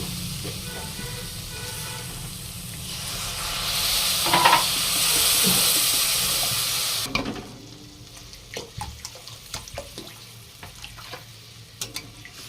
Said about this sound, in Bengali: মশলা খুব ভালোভাবে কষানো হয়ে গেছে, এবারে দিয়ে দেবো পরিমাণ মতো জল।